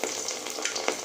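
Chopped garlic and whole garam masala spices sizzle loudly in hot oil, a steady close frying hiss with a few sharp crackling pops over about a second.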